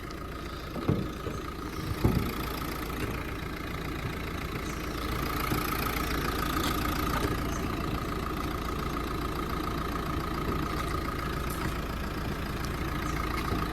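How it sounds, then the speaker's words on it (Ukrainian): The 1.5 diesel K9K engine of a 2013 Renault Grand Scenic idles steadily and evenly, with a couple of brief clicks near the start and no voices. "Двигунчик, як ви чуєте, працює рівненько, гарно, без посторонніх шумів, звуків."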